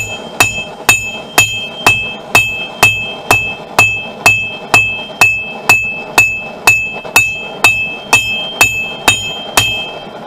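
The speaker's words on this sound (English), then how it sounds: "pull the steel down so I had the same strike right down, so I don't have to move the hammer" A hammer strikes hot mystery steel being forged into a knife, about twenty loud, evenly spaced blows with a bright metallic ring, continuing steadily without pause.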